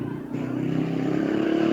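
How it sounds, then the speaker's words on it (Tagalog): Motorcycles on a road beside a house in Negros Occidental give a loud, close engine drone that rises in pitch as one passes, with faint talking underneath. "Maingay ang mga motorsiklo."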